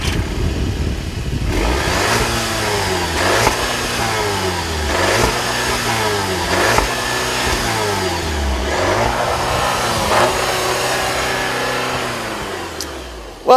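A VW car engine revs repeatedly toward about 3,500 RPM, each pull rising and then dropping back in a steady cycle of roughly six close, loud surges with no talking.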